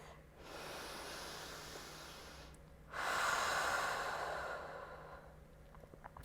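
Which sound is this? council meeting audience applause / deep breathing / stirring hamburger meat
deep breathing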